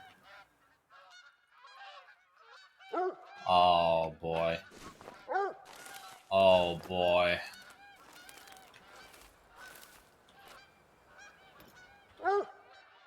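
Geese in the Yukon area of theHunter: Call of the Wild give two loud bursts of rapid honking, close by, while someone speaks quietly between and around the calls.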